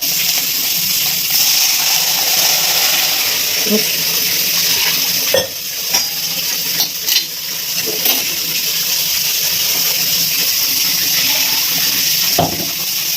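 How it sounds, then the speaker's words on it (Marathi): A pot of water coming to a boil bubbles and hisses steadily up close, a continuous rushing simmer with occasional soft clinks and taps. "तर पाण्याला उकळी येऊन द्यायची."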